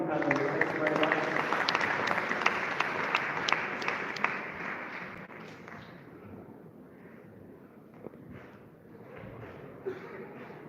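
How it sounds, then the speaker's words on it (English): Applause from the audience for the panelists at a Hussein Day community gathering, a sustained round of clapping that is loud at first and then thins and fades into a lower crowd murmur with voices. "One more round of applause for the lovely panelists."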